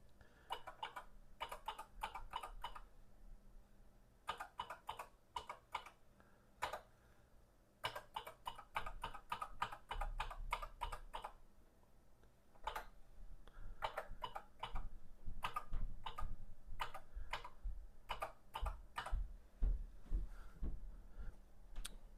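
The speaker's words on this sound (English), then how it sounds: "The mechanical keyboard here is probably the best to work with on these Atari 800s." Typing on the mechanical keyboard of an Atari 800 home computer, bursts of crisp close key clicks in irregular runs with brief pauses, over a faint low background hum.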